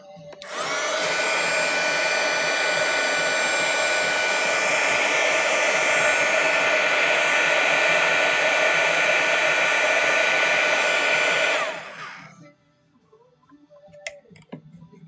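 A hair dryer blows steadily on wet watercolor paint, a loud close whooshing roar running for about eleven seconds before switching off and leaving faint clicks and quiet room noise.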